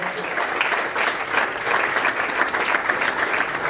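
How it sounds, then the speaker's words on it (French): An awards-ceremony audience applauds artists in a sustained, even burst of many hands clapping, filling the room steadily from start to finish. "Merci de bien applaudir pour ces artistes."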